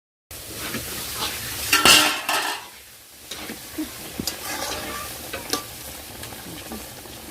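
A pot lid is lifted off shrimp simmering in water on a stove, with a sharp metallic clink of the lid followed by soft bubbling and light utensil scrapes in a quiet kitchen.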